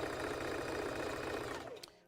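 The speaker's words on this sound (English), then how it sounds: "then I come back to the sewing machine" A sewing machine stitches dress fabric in a fast, even mechanical chatter, then winds down and stops just before the end.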